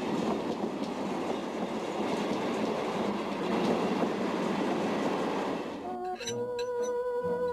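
A train rumbles past steadily and loudly near a station, then wheels clatter and squeal with clickety-clack rhythm as it rolls along the tracks.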